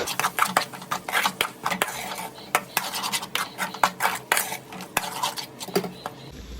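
A metal spoon stirs tomato masala in a pan for Kerala-style chicken roast, producing close clinks and scrapes in an irregular rhythm with a faint sizzle underneath.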